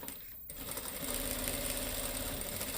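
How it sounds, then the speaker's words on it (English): A sewing machine stitches the end of a seam on a puff sleeve dress, running forwards and backwards after a brief pause. It gives a close, steady mechanical whir with rapid needle rattle and no talking. "start it with closing the end by stitching forwards and backwards a little bit."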